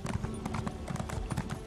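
Horse hooves clip-clop in Elder Scrolls Online near the Mournhold stables, a steady rhythmic trotting of several hoof strikes at moderate level with faint game ambience underneath.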